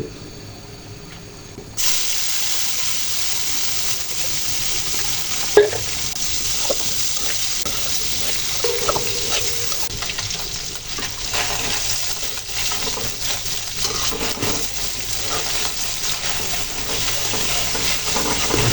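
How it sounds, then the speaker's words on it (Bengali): Taki fish frying in hot oil in a pan on a stove, a steady broadband sizzle running throughout with occasional stirring clinks and bumps, close and fairly loud after a quieter opening. "কাকি মাছগুলোকে খুব সুন্দর করে ভাজা ভাজা করে ভেজে নিচ্ছি"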